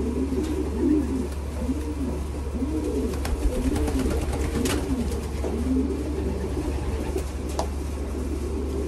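Racing pigeons in a loft coo in repeated soft, rolling calls, several birds overlapping near and far over a steady low hum, with scattered rustles and wing or foot noises and no talking.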